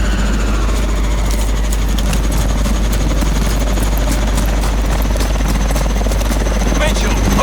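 Warbird aircraft in the video game Call of Duty: Advanced Warfare, a continuous heavy rotor-like engine drone with a deep low rumble and hum, loud and steady throughout, with voices beneath.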